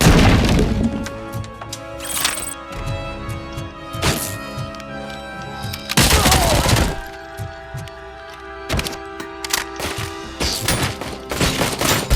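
Flashbang blasts go off in RoboCop: Rogue City as loud sharp bangs and thuds, several spaced across the stretch, with clattering impacts and ringing tones between them.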